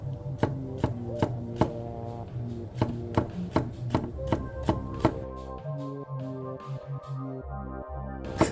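Rapid, evenly spaced Teruyasu Fujiwara Denka nakiri knife chops through a pepper against a cutting board, crisp and close, slowing to a few scattered cuts near the end.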